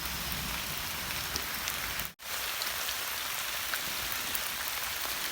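Steady rain falling in the forest during mushroom foraging, a dense, even hiss of drops hitting surfaces, close and continuous except for a brief cut near the two-second mark.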